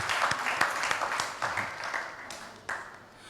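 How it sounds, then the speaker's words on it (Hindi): Enthusiastic applause from the audience at a book launch and poetry gathering, many hands clapping steadily for several seconds, loud and close, with a few sharper individual claps standing out. "एक बार ज़ोरदार तालियां बजाइए मजीदुल्ला सिद्दीकी साहब के लिए"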